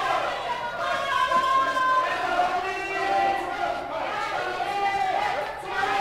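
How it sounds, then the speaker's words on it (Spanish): Wrestling fans in a gym cheer and chant for the luchador Conin, a sustained crowd roar with rising shouts and voices layered over a steady murmur throughout. "La porra de Conin está vitoreándole."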